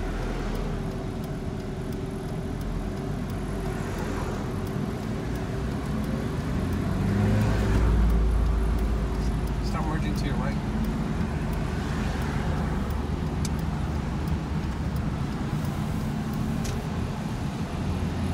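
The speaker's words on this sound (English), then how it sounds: "There I am with driving stick shift again. Manual transmission, 5-speed." Chevrolet S10 pickup with a 5-speed manual gearbox driving on the road, a steady engine and road drone heard from inside the cab, swelling briefly midway, with no talk.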